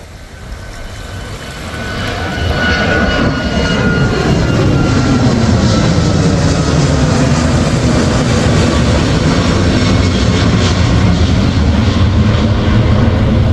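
An airplane departs the runway at Kauai, Hawaii, its engine roar swelling over the first few seconds and then holding loud and steady close by, a broad sustained rumble with a slowly shifting pitch.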